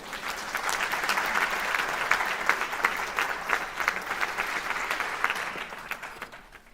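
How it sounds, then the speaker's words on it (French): A lecture-hall audience at a higher-education talk breaks into sustained applause to welcome the speaker, a dense, even wash of many hands clapping that holds steady and fades slightly at the end. "Un tonnerre d'applaudissements pour lui."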